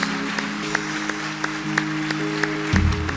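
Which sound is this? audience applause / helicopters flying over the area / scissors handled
audience applause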